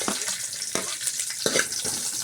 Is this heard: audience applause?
no